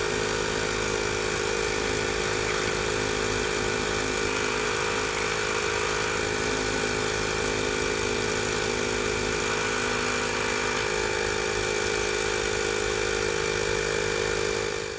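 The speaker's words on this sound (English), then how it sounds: "we're going to put the air, we have 20 pounds of PSI, into the system. You'll hear it." Compressed air at about 20 PSI forced through an R-Pod RV's water lines, blasting out of the low point drain with a loud, steady, rough roar that fills all fifteen seconds without talk.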